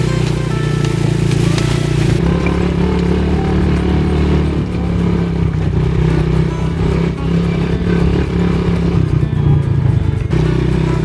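A Coolster 3050 vehicle's engine runs loudly and continuously on its first test run, a steady rough drone with rattling and clatter throughout, no speech over it.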